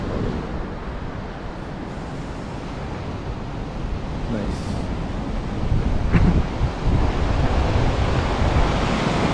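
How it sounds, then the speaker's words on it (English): Ocean surf breaks continuously, a loud roaring wash with heavy wind buffeting the microphone, swelling louder toward the end. "the waves look like they're getting smaller"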